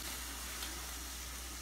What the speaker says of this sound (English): we're going to sizzle up these eggs in here with all this beef grease